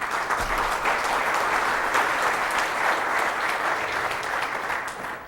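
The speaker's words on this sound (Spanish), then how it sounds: "Un fuerte aplauso." Sustained, dense applause from a seated audience fills the hall at a conference on education, innovation and private enterprise, steady and loud throughout with no voices over it.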